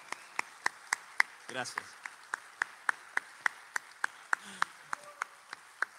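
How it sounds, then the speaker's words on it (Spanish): Audience at a live folk music show clapping in a steady, slow unison rhythm of sharp, distinct claps; a brief spoken word cuts through partway, with faint background murmur underneath. "Fuerte el aplauso para ella"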